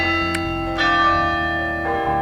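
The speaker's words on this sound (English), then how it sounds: "We're getting the bells. I love the bells." Church bells ring at St. Mary's Church in Fulton, Missouri, with sustained, layered metallic tones and fresh strikes landing over a steady ringing wash, loud and close, with no talk.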